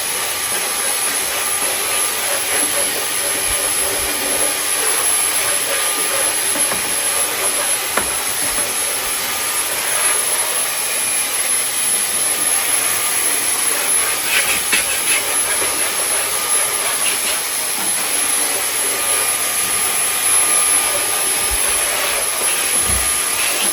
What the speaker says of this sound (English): I got the vacuum. Just gonna vacuum the top.